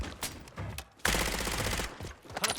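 Sustained automatic gunfire from the Modern Warfare video game, a dense close burst of rapid shots that continues steadily for most of the clip after a brief lull, with no talking.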